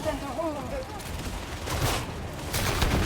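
Bolt gun (bolter) fire in the video game Darktide, played as a Veteran: a couple of heavy, booming shots land near the end, with someone talking over the battle noise.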